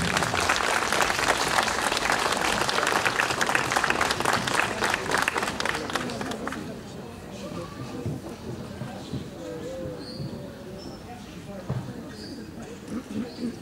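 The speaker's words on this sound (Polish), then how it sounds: "Brawa dla pani Krystyny." Audience applause at a 750th anniversary ceremony, with loud, dense clapping for several seconds that drops away into quieter room sound and murmuring voices.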